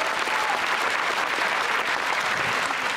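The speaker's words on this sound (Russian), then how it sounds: "Ваши аплодисменты." Steady, dense applause from a large audience at the Miss Russia 2011 final, a continuous loud wash of many hands with no pause.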